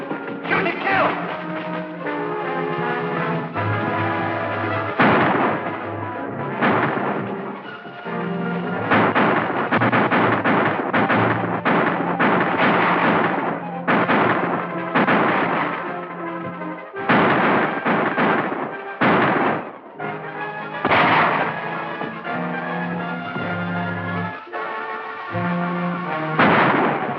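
Gunshots crack out as scattered, loud bursts through a dense, continuous movie soundtrack during a western film shootout, with the firing coming in irregular bursts across the scene.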